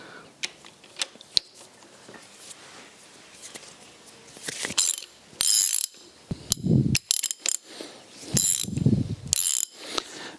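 A ratchet wrench cranks down the cap bolts on an old rusty engine's cylinder head, giving bursts of quick close clicking with pauses between them and a soft metallic clunk or two, and no one speaks.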